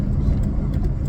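A car drives along a road with a steady, loud, close low engine and road rumble, as heard from inside the vehicle.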